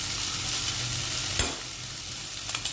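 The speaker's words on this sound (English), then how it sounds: "the butter is nicely melted. So I like to add the vegetables which" Boiled vegetables tumble into melted butter in a pan, and a steady sizzle follows, broken by a sharp clatter and a few light stirring knocks.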